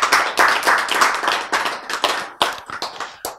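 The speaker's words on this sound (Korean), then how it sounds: "박수!" A lecture audience claps together in a steady, fairly loud burst of many hands for about three seconds, thinning into a few scattered final claps.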